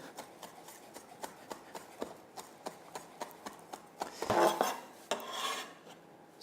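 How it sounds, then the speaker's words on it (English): Knife chopping fresh rosemary finely on a board: a steady series of crisp taps, near and moderately loud, ending in a brief rustling scrape as the chopped herb is gathered. "just chop those up nice and finely"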